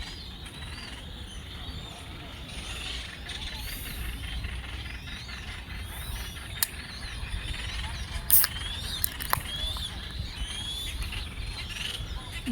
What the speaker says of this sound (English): I told you this island has birds, man.